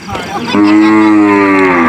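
Cattle moo at a livestock market trading cows and buffalo in Don Thoi, Akat Amnuai district, Sakon Nakhon, Thailand: one long, loud, close bellow swells after a brief murmur and holds steady to the end.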